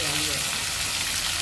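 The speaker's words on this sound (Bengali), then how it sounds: "মা ওই মাছ ভাজা তেলের মধ্যে দিয়ে দিচ্ছে আলু" Boiled potato pieces sizzle in leftover fish-frying oil with dried red chillies. The hiss is loud, dense and continuous, with no voices.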